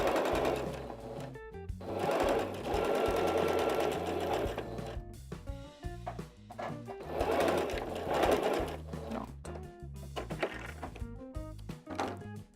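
A sewing machine stitching fabric around a curve, its needle whirring in fast mechanical runs that stop and restart several times, close and clear.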